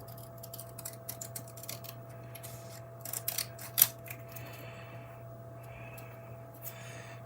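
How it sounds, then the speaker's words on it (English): Scissors snip cool grey cardstock by hand to trim a mat for a slimline layered card, giving a few faint, close clicks over a quiet background hum. "Let me just snip that a little bit."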